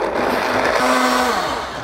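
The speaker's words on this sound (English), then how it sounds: "Same thing, high-powered blender, 2 minutes." A high-powered blender whirs steadily as it blends pistachio milk, a loud dense grinding roar close up that holds constant throughout, with a brief pitch shift in the motor partway through.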